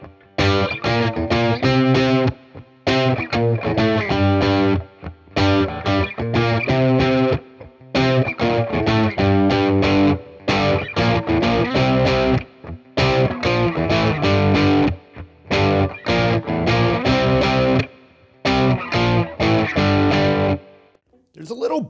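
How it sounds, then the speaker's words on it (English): Distorted electric guitar plays a choppy single-note riff from a song, loud and close, in repeated phrases separated by short pauses. "it sounds really good single note distortion."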